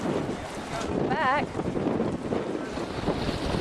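Strong, gusty wind from Tropical Storm Lee roars steadily across a dock, with loud microphone buffeting throughout and a short shout partway through.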